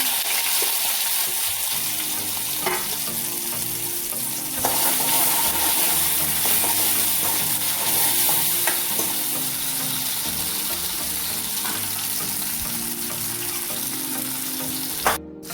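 Cumin seeds and chopped tomato frying in a pan, a loud continuous sizzle close by with occasional stirring knocks and scrapes, steady for the whole stretch with no talking.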